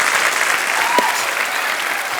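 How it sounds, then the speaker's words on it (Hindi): Steady, enthusiastic applause from a studio audience on a comedy show, continuous clapping close and full for the whole stretch with one brief vocal note rising above it. "जोरदार तालियां यार।"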